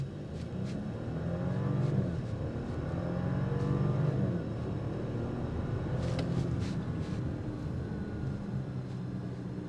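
A 2025 Audi Q8 Premium Plus SUV accelerates hard during a test drive, its engine note climbing steadily in pitch as the revs build, then easing and building again, loud and continuous with steady road noise and no talking.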